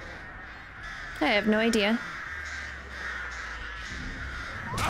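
Crows caw in a video game, a short run of harsh, rasping calls near the middle, loud and close, with someone talking nearby and game ambience droning underneath.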